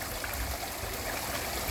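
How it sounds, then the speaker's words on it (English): Water spills over the top of a backyard pond waterfall spillway in a steady, rushing splash, close and continuous, with no voices. "look how much water that is pushing over the top of that spillway"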